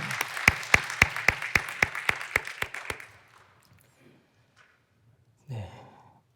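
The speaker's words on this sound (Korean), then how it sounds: "오늘 귀한 찬양으로 섬겨주신 우리 성가대학 오케스트라 우리 감사의 박수 한번 돌리겠습니다" Church congregation clapping in unison for the choir and orchestra, about a dozen loud, evenly spaced claps over three seconds that then stop, leaving quiet with a brief voice near the end.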